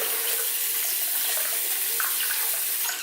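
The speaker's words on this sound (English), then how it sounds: "I'm using a combination of hot water and cool water." Tap water runs steadily into a sink while a makeup sponge is rinsed, a constant close hiss and splash with no voice.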